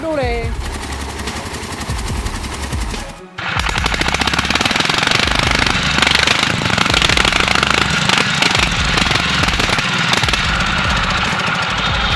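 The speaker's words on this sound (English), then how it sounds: "The hoarse, growling sound of the engine echoed through the silence of the mountains and forests" A loud, rough old tractor engine chugs and rattles continuously at close range, with a brief cut early on before the heavy rumbling resumes.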